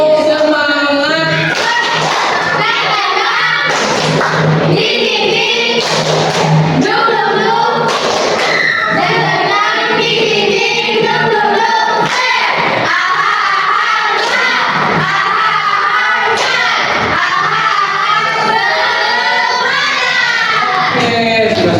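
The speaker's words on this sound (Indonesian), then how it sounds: "Tepuk semangat." A classroom group performs the tepuk semangat spirit clapping routine, with rhythmic hand claps mixed into loud chanting voices and shouts that carry on steadily throughout.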